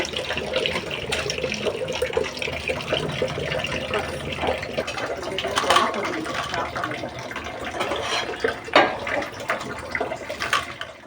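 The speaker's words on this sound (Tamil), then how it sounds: "நான் வாஷ் பண்ணிட்டு இருக்கேன்" Crab being washed under a running kitchen tap, with a steady broadband rush of water and scattered splashes and clatter as the shells are handled, fairly close and continuous throughout.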